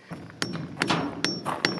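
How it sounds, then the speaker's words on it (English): A hammer strikes nails into the shotcrete shell of a concrete dome home, with sharp metallic blows landing about every half second, close and fairly loud, with faint ringing between hits. "we could hammer them right in with a hammer"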